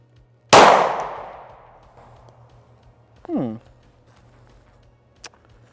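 A Luger P08 pistol firing 9mm, 124-grain rounds while failing to feed: one loud sharp shot with a ringing decay, followed seconds later by a brief metallic clatter and a faint click, no speech over it.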